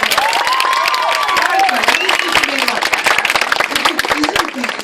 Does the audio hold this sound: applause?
yes